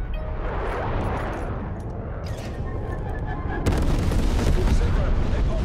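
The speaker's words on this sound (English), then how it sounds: "Enemy napalm strike incoming." Low, rumbling booms from a napalm strike in Call of Duty: Black Ops Cold War, with a steady roar that suddenly swells into a louder, harsher blast partway through, mixed with voices.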